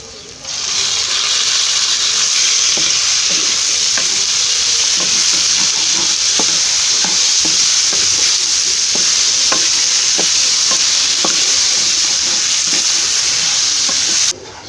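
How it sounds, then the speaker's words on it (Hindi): Chicken frying in ghee with ginger and garlic, a loud, steady hiss and sizzle running throughout, broken by a regular series of spoon scrapes and taps against the pan. "चिकन की भुनाई हो गई है।"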